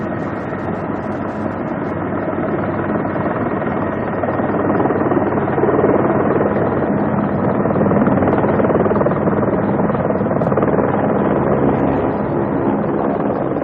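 A steady, loud mechanical roar of a helicopter with continuous engine drone and rotor noise, constant throughout with no speech.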